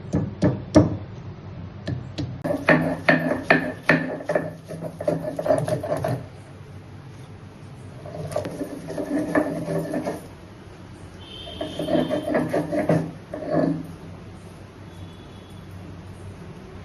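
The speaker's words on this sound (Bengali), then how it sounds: "শিলের মধ্যে নিয়ে নিয়েছি আদা আর রসুন। এবার এটাকে বেটে নেব।" Ginger and garlic are crushed on a traditional shil grinding stone in a mutton dish kitchen, heard as rhythmic bursts of scraping, knocking strokes with short pauses between rounds, close and moderately loud.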